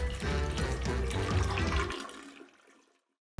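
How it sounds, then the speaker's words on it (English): A toilet flushes in the video game Fallout: New Vegas, with a loud rush of swirling water for about two seconds that drains away into near silence. "flush our DLC items down the toilet"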